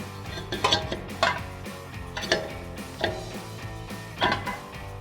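A PowerStop Z36 Extreme Truck and Tow 6-lug brake rotor is flipped over during cleaning, giving several sharp metallic clanks and knocks at irregular intervals, fairly close and with no talking.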